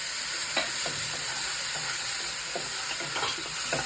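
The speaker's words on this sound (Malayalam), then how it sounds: "അപ്പോൾ നമ്മുടെ വെളിച്ചെണ്ണ ചൂടായി നമ്മളതിലേക്ക് ഉള്ളി, സവാള അല്ല, ഉള്ളി, പച്ചമുളകും ഇഞ്ചി." Shallots, green chilli and ginger fry in hot coconut oil in a pan, a steady close sizzle with soft stirring scrapes repeating through it, no voices.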